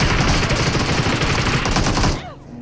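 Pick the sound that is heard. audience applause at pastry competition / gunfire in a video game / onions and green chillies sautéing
gunfire in a video game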